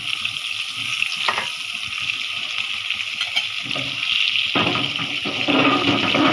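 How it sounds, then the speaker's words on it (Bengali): Eggplant slices fry in hot oil in a wok, giving a steady close sizzle and crackle throughout, with brief louder bursts as pieces go in or are moved. "তেলটা গরম হয়ে গেছে আমরা এক একে বেগুনগুলো দিয়ে দিচ্ছে"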